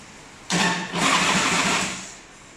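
A small S&S Evo 80Q engine cranks and catches, sputtering briefly before revving into a steady buzzing run, then easing off slightly.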